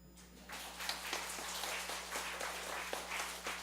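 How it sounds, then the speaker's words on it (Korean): A church congregation claps together during a sermon, a dense patter of many hands held steady for a few seconds under a low constant hum. "박수 한번 쳐야 되는데"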